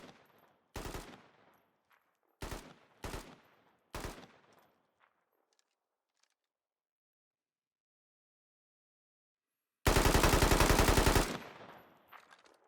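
AK-74 rifle with an OKP-7 sight firing in the video game Squad: four separate single or short-burst shots with fading tails, then a long sustained full-auto burst of more than a second, loud and alone.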